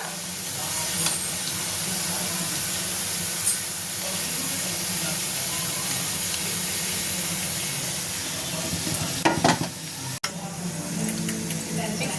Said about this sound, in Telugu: మీడియం ఫ్లేమ్లో పెట్టుకోవడం వల్ల ఇవి బాగా ఫ్రై అయ్యేవి